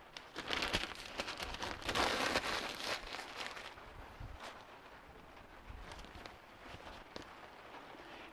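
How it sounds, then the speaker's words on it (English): Light drizzle falling outdoors beside a wood fire being started for bake day, a soft steady patter of drops with scattered louder taps, heavier in the first few seconds and then thinning to a faint hiss. "It's drizzling right now"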